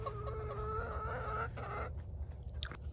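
Backyard chickens clucking close by in a coop with nesting boxes, a run of throaty, repeated clucks and squawks, fairly loud, with a sharper squawk near the end.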